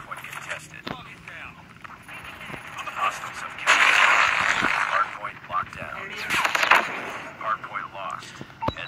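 Man o War rifle gunfire in Call of Duty Mobile comes in dense bursts, one sustained volley mid-way and another shorter one later, layered over game sounds and someone talking.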